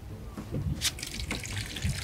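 Water gushes into a mixing vessel for a large batch of pizza dough, a close, uneven splashing pour with a few brighter bursts, heard on its own without talk.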